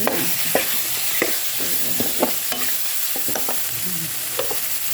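Pork being stir-fried in a pan for a Thai curry, with repeated scraping stirs of a spatula over a soft steady sizzle and no talking.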